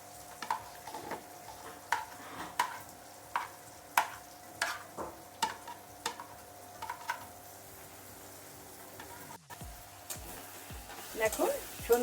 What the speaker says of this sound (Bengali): তো আর একটু ভেজে নেব।